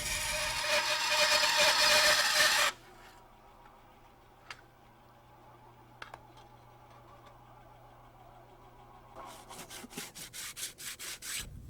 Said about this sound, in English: Turn on the saw and slide the tube along the board